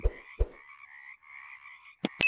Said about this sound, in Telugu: అక్కడ కప్పలు గుంపుగా అరుస్తూ